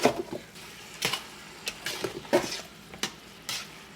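Ground meat frying in a pan with cumin and chili powder, soft sizzle under repeated scraping and stirring strokes from a utensil against the pan, close and irregular, with no talking.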